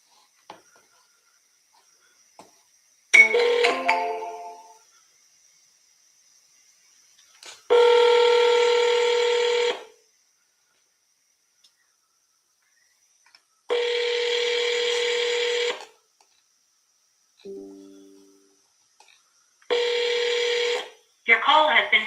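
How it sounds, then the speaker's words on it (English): A telephone plays several bursts of harmonic dialing or ringback tones while placing calls to sellers, each lasting about two seconds and separated by silence, with a short voice near the start and a brief low tone near the end. "People are responding to my message, so we're going to start"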